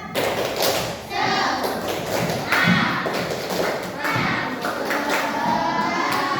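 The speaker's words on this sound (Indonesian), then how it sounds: "Tepuk semangat" Elementary school class doing a rhythmic spirit clap, sharp claps and thumps repeating in a patterned beat, with children's voices mixed in throughout.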